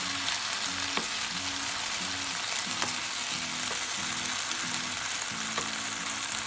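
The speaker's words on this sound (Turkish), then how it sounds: "2 yemek kaşığı sıvı yağ koydum ve onlarla birlikte şöyle çeviriyorum" Cubed potatoes sizzle steadily in about two tablespoons of hot oil in a pan, a constant frying hiss with a few soft taps and scrapes of stirring and no talk.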